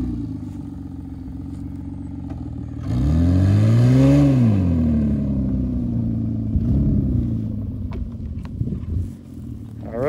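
A Ford Freestyle crossover with all-wheel drive labours on a slick surface, its engine surging to a loud rising rev midway before settling back to a steady rumble with some clatter.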